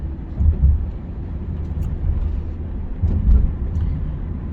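A car drives through city streets, heard from inside as a steady low engine and road rumble that swells gently a couple of times, with no voices.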